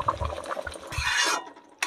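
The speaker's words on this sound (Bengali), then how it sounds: "এবার জলটা দিয়ে দেবো" Hot water poured into a cooking masala for doi katla fish curry, a short hissing, sizzling splash rising over faint clinks and stirring of the pan.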